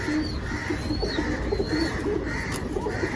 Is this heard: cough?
no